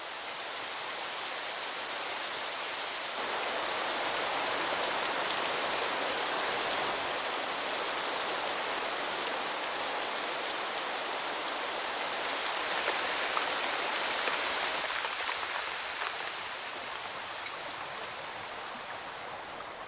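Heavy tropical rainstorm pouring in the mountains of Borneo, a steady dense roar of rain and running water that swells louder after the first few seconds and holds for the whole stretch, with no voices.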